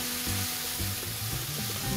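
Carrot halwa with cardamom frying in oil in a pan, a steady close sizzle with soft stirring scrapes recurring throughout, no voices.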